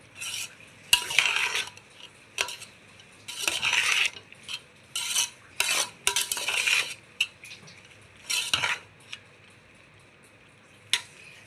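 Cooked rice for pulihora is mixed in a pot with a metal spoon, producing repeated scraping and clinking strokes in irregular bursts, close and fairly loud.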